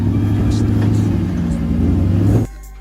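First generation Porsche Cayenne (2003–2010) engine running with a loud, steady low rumble and a slight rise in revs, then cutting off abruptly near the end.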